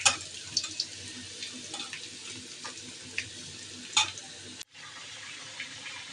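Onion, garlic, cumin and torn dried chilli sizzling in hot oil, a steady close frying hiss broken by a few sharp pops and clinks, with a brief dip near the end.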